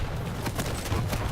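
Rapid gunfire crackles through a Quake arena match in a dense, continuous burst of shots and hits, loud and close.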